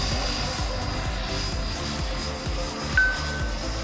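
An AeroFoam Albatros L-39 RC jet with a 105mm electric ducted fan cruising at about half throttle, a steady whine and drone at moderate distance with a brief louder swell near the end, no talking.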